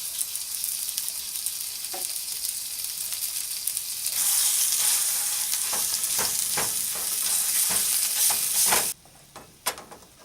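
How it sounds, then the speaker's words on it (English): Ground beef frying in oil in a pan for taco meat, a steady close sizzle that swells louder partway through, with scattered stirring scrapes and pops before it cuts off near the end. "So go ahead and put your meat in there."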